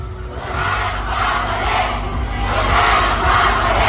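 A large crowd at a political rally in Manila shouts and chants together in loud, surging waves of massed voices that swell near the end.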